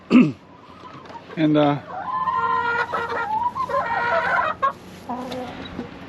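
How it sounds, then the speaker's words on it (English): Egg-laying hens cluck inside a hutch, close and loud, with a burst of sharp calls followed by a run of chattering, overlapping clucks and squawks. "we are starting to get chickens laying eggs on this side of the hutch"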